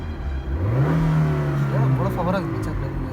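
A car engine starts up and revs during a driving lesson, its pitch climbing and then holding as the engine idles. Close voices talk over the engine.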